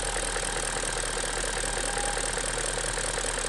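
A 1999 BMW 540i with the M62TU V8 idles up close, a steady ticking engine hum with a faint thin whistle running through it, even and unbroken.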